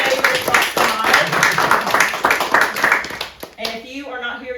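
An audience at a book awards ceremony claps for a winner, a dense burst of many hands applauding up close that thins out toward the end, with voices and murmuring rising underneath.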